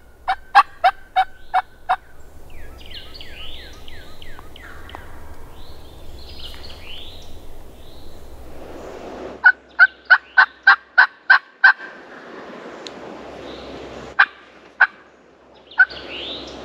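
Wild turkeys gobble in the Alabama woods, heard as bursts of rapid, rattling calls that come in clusters and answer one another at moderate distance over a quiet outdoor hush.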